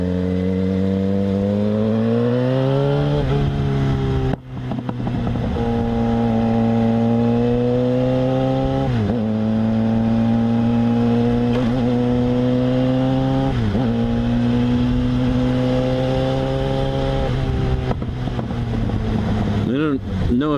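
A Yamaha FZ6R motorcycle engine revs steadily while riding, with pitch climbing and dipping through several gear changes over sustained wind noise, loud and close throughout.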